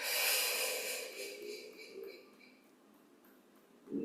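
Slow breathing during a guided breathing exercise, a long hissy exhale fading over a few seconds, then a sharper breath at the end, close and quiet.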